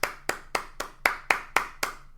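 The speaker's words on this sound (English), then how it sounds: "He clapped for himself" A single person claps eight times in an even, steady rhythm, close and clear, with no talk.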